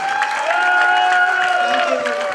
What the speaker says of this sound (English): Just give them a big hand of applause for them.